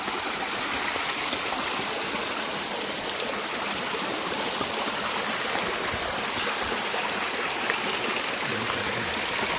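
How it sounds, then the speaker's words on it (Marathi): Stream water rushes steadily through a Konkan forest in a dense, unbroken hiss that stays even and close throughout. "पाण्याचा आवाज येतो काय."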